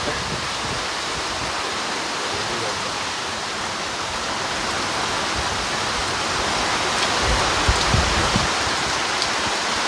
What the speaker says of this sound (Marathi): बाहेरनं पण पाऊस आतनं पण पाऊस.